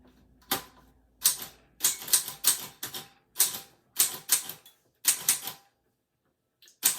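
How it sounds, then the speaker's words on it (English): Sharp metallic clacks of a typewriter come in quick bursts, key strikes clustered with short pauses between runs, close and loud. "you couldn't have had any nails back in the day typing on this typewriter"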